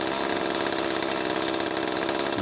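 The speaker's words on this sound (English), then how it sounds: "after I run this chainsaw for a couple seconds at full speed" A gasoline chainsaw revs at full throttle after repair with a replaced prime bulb, air filter and chain, giving a loud, steady, buzzing roar that continues without a break and with no talking.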